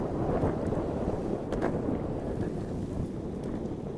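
A Meepo V5 ER electric skateboard accelerates outdoors at full battery in speed mode 4, heard mainly as loud, blustery wind buffeting the microphone with a low rushing roar throughout.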